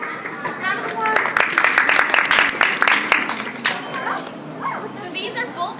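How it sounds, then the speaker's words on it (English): An audience claps for volunteer helpers after a floating-rock demonstration in a volcano lesson, a dense round of applause lasting several seconds and slowly thinning, with children's chatter and voices mixed in. "Round of applause."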